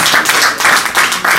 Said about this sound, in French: Applaudissons l'artiste.